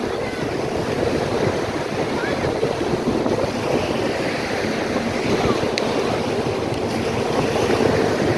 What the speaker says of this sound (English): looking at some of these waves that are starting to develop, maybe getting 1 to 3 feet